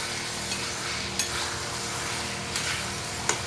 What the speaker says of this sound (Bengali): আলু কষানো চলছে।